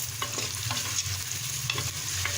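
Onions frying and browning in a pot with whole garam masala for aloo gosht: a steady, close sizzle with scraping stir strokes throughout, no voices.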